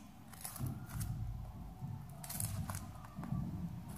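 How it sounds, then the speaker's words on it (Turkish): Scissors snip through cardboard up close, a few crunchy cuts with soft rustling between them, quiet and unhurried. "Daha sonra bu çizgileri makasla kesiyoruz."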